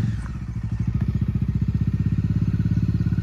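A Bajaj Dominar heavy motorcycle's engine runs close and loud, a rapid, even thumping pulse with clattery texture that firms up after the first second, no voices over it.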